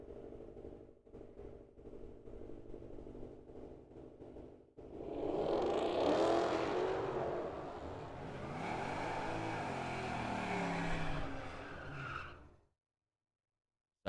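Two drag race cars, a Demon and a Mustang, launching side by side at Firebird raceway, engines rising to a loud roaring blast from the track side, then the roar fades away into silence.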